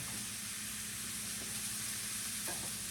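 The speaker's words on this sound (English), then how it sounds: "get the beans warmed up, saute the shallots a little bit" Green beans and shallots sauté in a hot pan with a steady, even sizzle and faint stirring scrapes. No one speaks.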